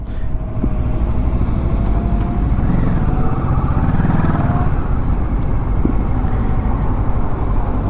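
A Kawasaki Versys 650 adventure motorcycle on a long ride, its engine drone steady and loud beneath heavy rushing wind noise for the whole stretch.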